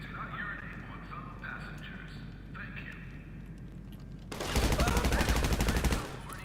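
Rapid automatic gunfire in the video game GTA 5 Online during a rapid-fire bug, a loud, fast burst of shots lasting about a second and a half, following quieter game ambience with faint clatter and movement.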